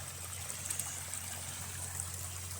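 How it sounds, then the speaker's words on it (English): A raging river flows as a sheet of water, steady rushing without a break, a constant broadband wash with a low hum underneath, continuous and fairly even in level. "The whole thing is a sheet of water, and this is just a raging river."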